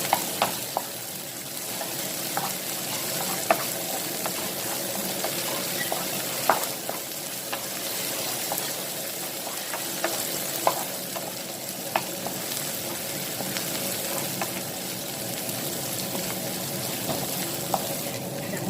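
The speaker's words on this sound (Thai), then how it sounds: "ก็ใส่พริกกับกระเทียมลงไปผัดเลยค่ะ เราจะผัดพริกกับกระเทียมให้หอมนะคะ" Chilies and garlic sizzle steadily as they are stir-fried in a hot pan, a constant crackling hiss broken by sharp scraping clicks of the utensil against the pan at irregular intervals throughout.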